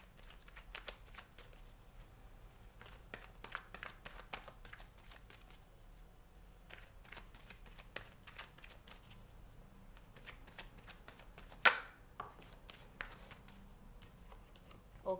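Tarot cards shuffled by hand in a steady run of soft riffling and flicking, quiet and close, with one sharper snap near the end; no talking.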